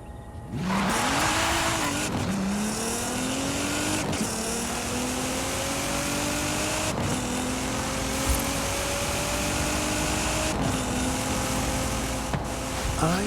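Lamborghini Murcielago engine in a racing video game, a loud, steady engine note rising through several gears, each climb cut short by a brief shift before revving up again.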